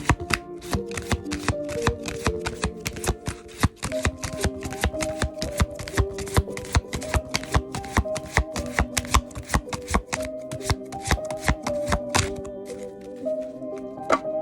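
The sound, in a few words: shuffling tarot cards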